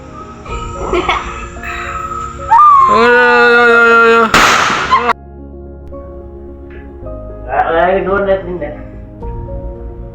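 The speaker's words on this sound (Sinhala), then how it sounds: "විශාල බෝම්බයක් දාන්නයි යන්නේ" A large firecracker bursts once at a Sinhala New Year celebration: one sharp, loud blast in the middle, framed by shrill tonal whistling and background noise before and after.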